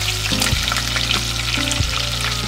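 Garlic and two large green chilies fry in hot oil in a pan as they are stirred, giving a close, continuous sizzle broken by a few scraping knocks of the spoon against the pan.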